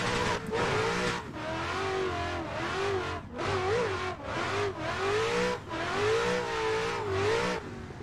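A Ford Mustang RTR drift car working the skid pad at Lime Rock Park, its engine revving hard in repeated loud surges with brief lifts between them, close by and continuous.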